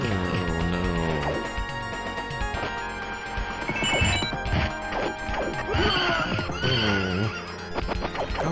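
A horse neighs in an arcade video game, its whinnies rising and falling among crashing, thwacking effects and busy game music. The sound is loud and continuous, with no talk.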